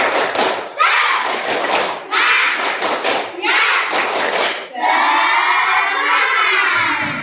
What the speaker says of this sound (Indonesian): sekali lagi bersemangat, tepuk semangat